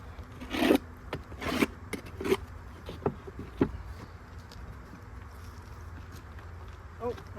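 Beehive parts being scraped clean with a hive tool, a series of short, close scraping strokes in the first few seconds, then quieter handling noise with faint outdoor background.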